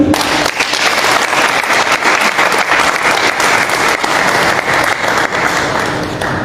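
A crowd claps loudly and steadily at a public address, dense applause filling the whole stretch without a break.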